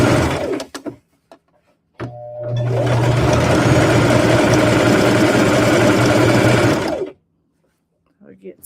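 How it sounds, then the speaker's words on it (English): A sewing machine stitches across the bottom edge of a rag quilt in one steady, loud five-second run, close by, with brief talk and clatter just before it starts. "now I'm just going to sew across the bottom"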